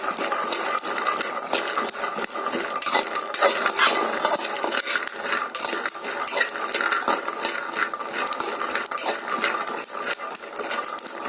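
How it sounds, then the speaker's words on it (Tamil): Peanuts are dry roasted and stirred in a pan, producing a dense continuous rattle and scraping as the nuts tumble against the metal, loud and close throughout with no talking. "வேர்க்கடலை நல்லா வறுபடுற வரைக்கும் நம்ம வறுத்துக்கணும் நல்லா பொறிஞ்சி வருது பாருங்க வேர்க்கடலை"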